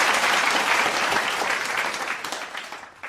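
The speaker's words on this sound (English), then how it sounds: "Let us give her a virtual applause." Audience applause for a speaker at a morning devotion gathering, steady dense clapping throughout that thins and fades slightly toward the end.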